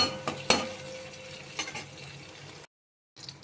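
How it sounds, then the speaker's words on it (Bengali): Onions and curry leaves frying in oil for sambar, a soft sizzle broken by sharp clinks and scrapes of a spoon against the pan, then a brief silence before the sizzle returns. "পেঁয়াজটা বেশি ভাজবো না, একটু কারি পাতা দিয়ে দিলাম"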